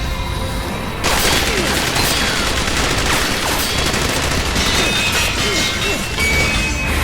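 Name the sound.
blood missile explosions in an anime fight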